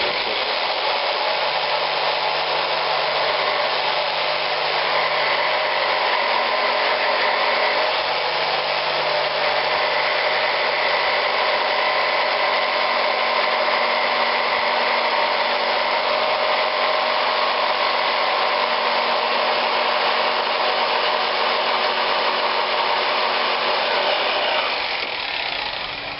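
Power tool cutting wood to shape a war club or cane, a steady loud whine with a constant pitch that runs unbroken for about 25 seconds and then cuts off.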